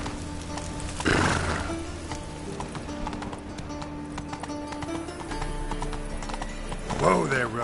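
Roach, a horse in a video game, clip-clopping at a gallop with a loud whinny near the start and another toward the end, hoofbeats close and rhythmic over faint game music and voices.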